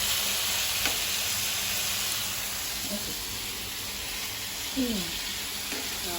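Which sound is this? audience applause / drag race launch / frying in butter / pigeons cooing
frying in butter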